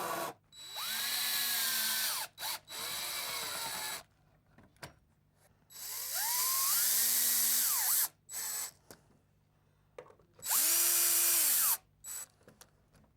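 Power drill driving screws into a timber ladder shelf in three bursts, each whine climbing in pitch as the screw bites, separated by pauses with small clicks and handling knocks, close and loud.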